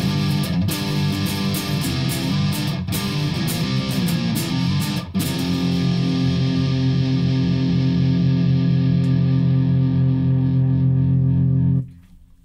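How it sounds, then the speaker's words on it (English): A Squier Custom Nashville Stratocaster played through distortion pedals, with loud sustained overdriven chords and notes ringing continuously for about twelve seconds before cutting off abruptly. "that was your kind of distortion pedals"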